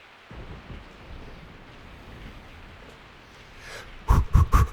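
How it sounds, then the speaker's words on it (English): Steady falling rain in the Resident Evil 3 video game, with a few loud, close thunder cracks or rumbles bursting in near the end and no voices. "I woke up to the sound of falling rain"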